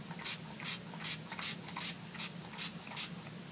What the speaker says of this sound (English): So you're just going to spray this down.